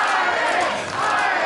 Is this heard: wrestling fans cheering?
yes